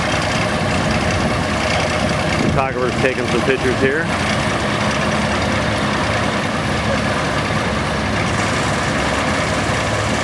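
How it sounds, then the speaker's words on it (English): An International road tractor truck with a Cummins diesel engine idles nearby with a steady low rumble, while someone talks over it and a brief whining mechanical sound rises and falls partway through. "big International road tractor with a says Cummins diesel on the side"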